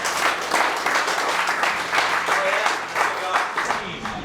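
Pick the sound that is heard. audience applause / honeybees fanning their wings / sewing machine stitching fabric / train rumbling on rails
audience applause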